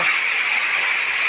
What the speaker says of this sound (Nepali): गुफाभित्रबाट पानीको झर्ना यसरी पानी झरिरहेको छ